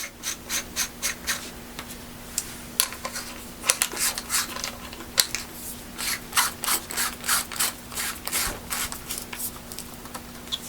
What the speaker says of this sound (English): grab your end cap, screw it back on.